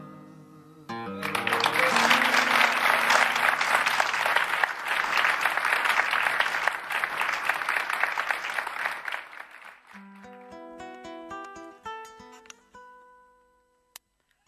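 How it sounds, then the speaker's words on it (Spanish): A radio studio audience breaks into loud, sustained applause after a live folk song. The clapping swells and holds for several seconds, then fades as a guitar plays a few plucked notes that ring out to the end. "Después de esos aplausos, ¿no?"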